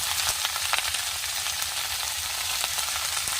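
Vegetables with green chillies and turmeric stir-fry in a pan with a loud, dense, continuous sizzle, broken by frequent scraping stirs and small crackling bursts.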